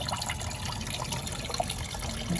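Water trickling and draining steadily out of a Sprinter campervan sill after dirt was cleared with a screwdriver, a continuous close splashing dribble with no talk.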